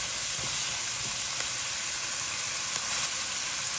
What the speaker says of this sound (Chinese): 炒肉末断生上色